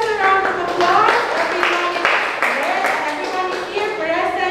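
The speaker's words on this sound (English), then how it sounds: "please give yourselves a round of applause" Students clapping together in a classroom, a sustained round of applause from a small group of about thirteen, with children's voices mixed in throughout.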